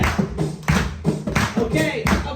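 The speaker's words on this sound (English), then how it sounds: "we get a little hand clap" An audience at an intimate Sofar Fort Myers concert claps along in rhythm to a song, sharp regular hand claps roughly every half second over music and a singing voice.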